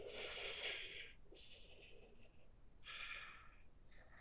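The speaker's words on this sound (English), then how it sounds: "Breathing." Heavy exhalations in a hot yoga class during standing splits, two long breathy bursts with quieter breaths between, close and fairly loud over a low room hum.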